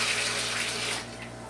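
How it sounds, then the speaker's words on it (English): Soaked nuts rinsed under running water from a tap, a steady close splashing rush that eases slightly toward the end, with no talking. "the first thing we're going to do is rinse our nuts"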